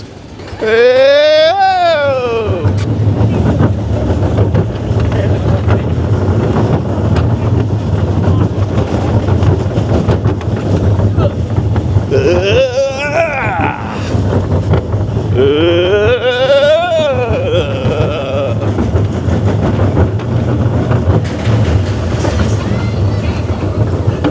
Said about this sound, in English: The most intense roller coaster in the world.